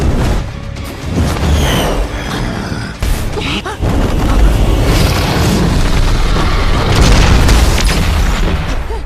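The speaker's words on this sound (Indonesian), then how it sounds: "sebuah ledakan energi muncul dari dalam reruntuhan kuil" A deep, rumbling boom erupts and rolls on continuously, a loud, dense blast of low roaring energy that swells and stays intense throughout.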